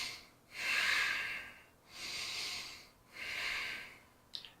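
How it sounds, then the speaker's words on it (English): Three long, labored deep breaths drawn with audible resistance, each a rough, hissing, snort-like rush of air lasting about a second, close to the ear and separated by short pauses, with a faint click at the end. "Oftentimes I hear people with a lot of resistance when they deep breathe"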